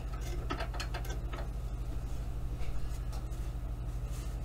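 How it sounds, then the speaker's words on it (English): A basic little mechanical sewing machine stitches decorative scallops, giving a steady fast clatter of needle strokes over a low motor hum, close and continuous. "this is a pretty basic little sewing machine"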